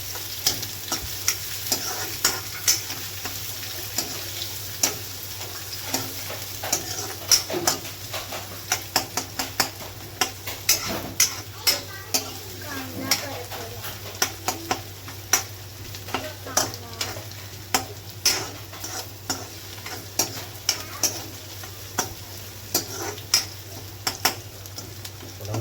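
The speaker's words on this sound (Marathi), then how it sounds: "कांदा टाकून घ्या. कांदा थोडा लाल होईपर्यंत" Onions fry in a pan for chicken rassa with a steady low sizzle, broken by frequent sharp clinks and scrapes of a spoon stirring against the pan.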